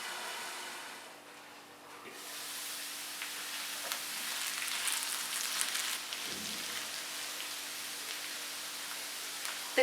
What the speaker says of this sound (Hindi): आलूओं को कवर करके तकरीबन 4 से 5 मिनट के लिए फ्राई करेंगे